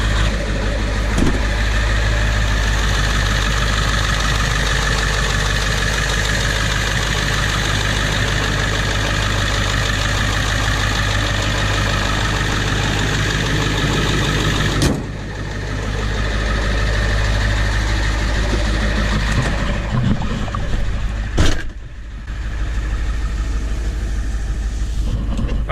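A Ford 7.3 Powerstroke diesel engine idles after a cold start, a loud, close, steady rough rumble with a knocking clatter that runs continuously, broken by a couple of brief sharp knocks.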